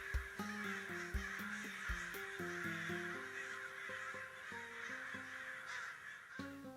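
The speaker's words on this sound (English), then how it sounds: "Then he'd run off with his crow buddies." Crows caw repeatedly in a loose, uneven rhythm, fairly clear over a steady background.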